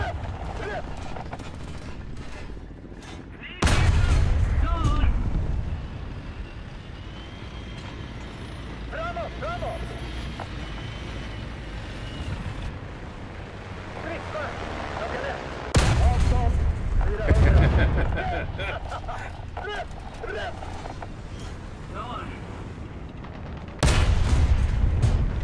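Heavy bursts of rapid autocannon fire in a video game erupt in three loud volleys over a rumbling engine background, with a vehicle droning between the bursts.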